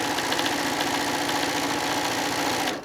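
A sewing machine stitches a quarter-inch quilt seam in a steady, rapid mechanical whir with a fast repeating rhythm, running evenly for a few seconds before stopping.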